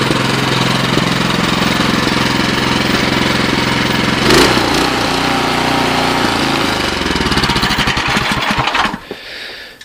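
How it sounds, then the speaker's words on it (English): Cub Cadet snow blower engine running close by, a loud steady rattling drone with a brief surge midway before the engine cuts off and falls silent at the end. "So I just bought this guy. I have it running so I can show you the headlight and all."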